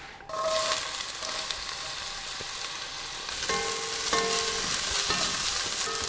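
Small onions drop into hot olive oil in an enamel pot and sizzle loudly and steadily at close range, with stirring clatter and a fresh surge of frying partway through.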